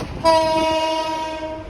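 The Dolonchapa train arrives at Santahar station with a loud, sustained horn blast starting suddenly and holding steady, rail rumble beneath it.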